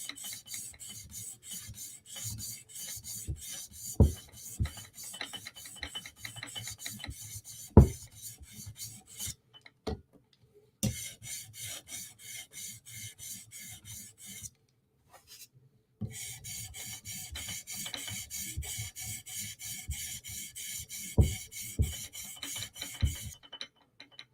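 A Chris Reeve Sebenza Tanto blade is drawn back and forth across a sharpening stone in steady rasping strokes, with a few short pauses and occasional sharper scrapes, close and moderately quiet.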